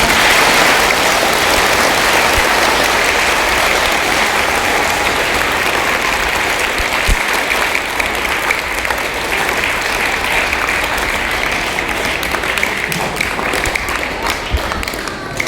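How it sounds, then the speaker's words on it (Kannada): An audience claps loudly at a talk on good touch and bad touch, a dense continuous roar of applause that holds steady and close throughout. "ಒಮ್ಮೆ ಜೋರಾಗಿ ಚಪ್ಪಾಳೆ ಹೊಡಿಬೋದಾ?"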